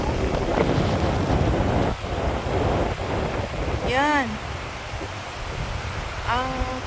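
Lake waves whipped up by strong wind at St. Albans Lake, Vermont, a loud continuous wash of surf and wind buffeting with a few high gull cries, while someone briefly speaks.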